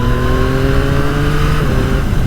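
A 2025 Yamaha MT-09 Y-AMT three-cylinder motorcycle roars under hard acceleration, engine note climbing steadily and loud from onboard with thick wind rush, pitch rising through the revs with no voices.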